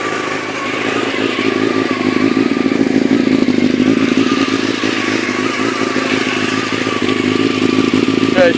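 A Honda CBR600 F2 motorcycle with stainless steel exhaust down pipes idles steadily up close, its engine note a continuous, even rumble with no pauses throughout.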